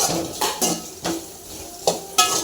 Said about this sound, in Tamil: இது மாதிரி வதக்கிட்டே இருங்க, நல்லா வதங்கட்டும்.